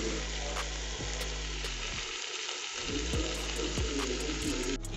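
Pieces of lamb fry with garlic and rosemary in a pan over medium-low flame, giving a steady close-up sizzle with occasional stirring scrapes and clicks from the pan throughout.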